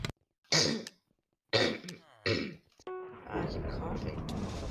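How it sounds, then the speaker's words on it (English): A few short throat-clearing coughs with grunts and breathy sounds, close to the mic, followed by a steady background hum. "I'm coughing."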